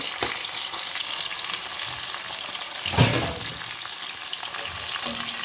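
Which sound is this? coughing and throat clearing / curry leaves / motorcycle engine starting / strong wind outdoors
curry leaves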